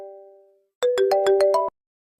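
A mobile phone rings with a short electronic melody of about six quick, bright notes. The ringtone is clear and close, following a fading tone, with no voices over it.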